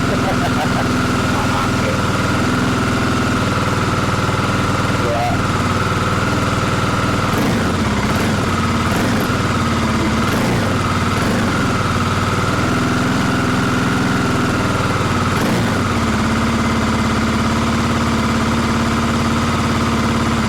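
A Kawasaki KLX 250 motorcycle engine idles at close range with a steady mid-low drone, a few brief throttle blips in the middle, and a voice talking over it.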